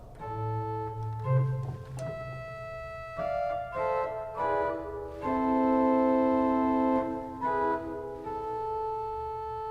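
The two-foot principal stop of a Brunzema Opus 12 church pipe organ plays alone in a flowing passage of high, bright sustained notes. A soft low hum sits beneath the notes, and no voices are heard.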